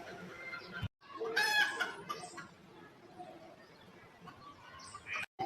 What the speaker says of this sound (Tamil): விடிய காலம் வர சேவல் சத்தம்